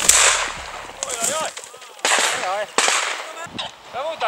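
Several sharp, loud shotgun bangs ring out during an outdoor pheasant hunt, with bird-like squawking calls in between.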